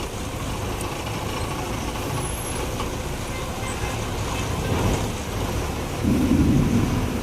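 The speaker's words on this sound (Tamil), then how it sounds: "வெளுத்து கட்டிடுச்சு மழை." Heavy rain and a thunderstorm on a street in Vijayawada form a dense, continuous roar with low rumbling and passing traffic, swelling louder toward the end.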